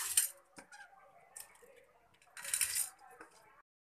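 Washed dry lentils for mixed dal pour and clatter into a metal pressure cooker in two short bursts, with faint clinks between them, close and fairly quiet.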